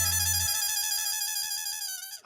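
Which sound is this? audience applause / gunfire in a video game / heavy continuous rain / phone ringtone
phone ringtone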